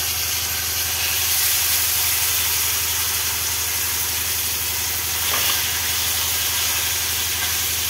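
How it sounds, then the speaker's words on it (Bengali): Shating fish frying in hot oil, a steady loud sizzle and hiss that holds without a break, with a brief scrape of stirring partway through. "দেখো আমি ভেজে নিচ্ছি, কত বড় বড় দেখো"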